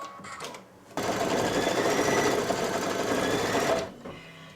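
A machine embroidery run stitches background quilting on fabric backed with fusible woven stabilizer. It starts abruptly as a loud, steady, rapid whir of stitching, holds for about three seconds, then stops with quieter machine sounds before and after.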